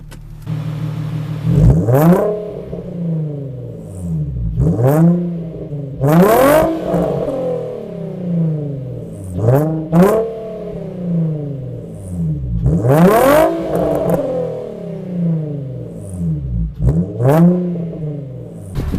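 An Infiniti G35 with a modified exhaust revs repeatedly, about seven sharp throttle blips rising and falling with a smooth, deep tone between them, close and loud with no talking.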